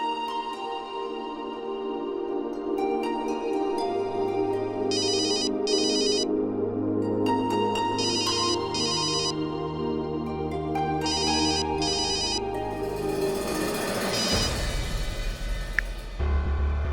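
A telephone rings with an incoming call in three paired electronic trill bursts over a soft musical underscore, followed by a rising whoosh and a hit, in a Hindi TV drama scene.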